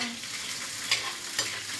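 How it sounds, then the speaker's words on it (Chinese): Food is stir-fried in plenty of hot oil, a constant hiss broken by two quick scraping stirs of the spatula in the wok. "你要多放点油，把它煸一下。"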